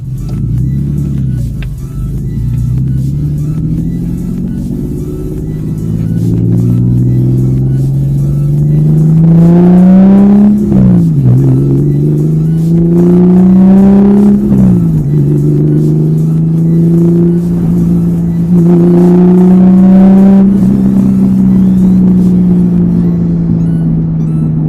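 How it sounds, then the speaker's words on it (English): A 1999 Porsche 911 Carrera with a 300 bhp rear-mounted engine revs loudly and close, its rumbling note climbing in three rising pulls that drop back between them before settling to a steady high idle. "when you hear the engine start up behind you"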